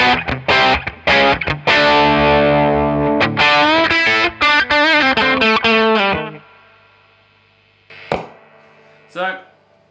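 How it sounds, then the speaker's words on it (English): Electric guitar played through the blues channel of a Mesa Boogie Express 5:50 amp, a warm overdriven riff of sustained chords and single notes for about six seconds, then fading to quiet with a couple of brief picked noises. "The blues channel again on the Boogie."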